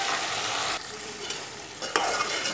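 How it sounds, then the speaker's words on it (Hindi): Chicken frying in a pan with yogurt-based masala, turmeric and ginger-garlic for a Mughlai chicken korma, giving a steady close sizzle with stirring scrapes and a couple of brief louder bursts, no voices. "ये चिकन हमारा भुन रहा है।"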